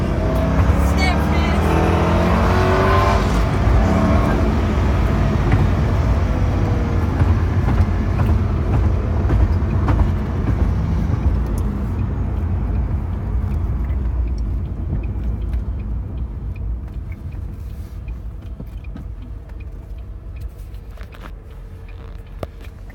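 2005 Ford GT with a supercharger accelerating hard to pass a Prius, a loud close engine roar heard from inside the car that builds and then slowly eases off to a steady rumble.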